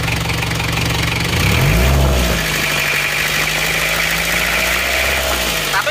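An Isuzu Panther diesel engine with its cylinder liners serviced runs steadily at close range, rising briefly as it is revved, with someone talking over it.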